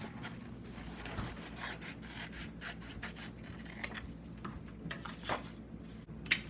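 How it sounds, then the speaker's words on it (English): Scissors snip and rasp through a paper square for origami, a faint close run of small cuts and rubbing, with no voices. "now I'm gonna cut that square right out"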